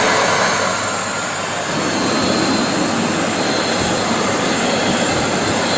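Steady, loud whooshing roar of a repaired vacuum cleaner running in blower mode after its carbon brushes were replaced, continuous and unbroken from start to end.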